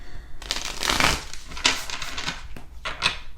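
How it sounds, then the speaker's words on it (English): A tarot card deck being shuffled by hand, with several crisp riffling bursts of cards close up, separated by short pauses, and no talking. "I promise I've shuffled this deck. I'm gonna shuffle it again."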